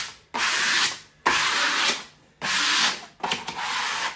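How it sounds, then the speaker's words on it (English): Wallpaper being smoothed down onto a wall by hand, four long, close rubbing swipes, each a steady brushing sweep separated by short pauses, with no talk. "Smoothing down, wiping off excess."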